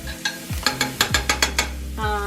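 Onions browning in a skillet, stirred with quick rhythmic scrapes that tick through a steady sizzle, close and moderately loud, with a low hum running underneath and no voices.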